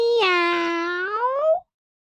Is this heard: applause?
no